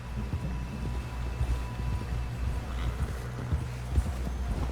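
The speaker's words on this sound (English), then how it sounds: "Someone help John down off this horse." Steady clip-clop of horse hooves trotting in Red Dead Redemption 2, an even rhythmic beat with a faint background hum and no talking.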